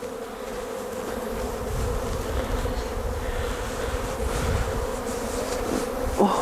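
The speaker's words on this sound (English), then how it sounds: "our bees here are pretty docile, and are well taken care of" Honey bees swarm around a hive in a dense, continuous buzz that stays loud and close the whole time, with a few individual bees droning nearer now and then.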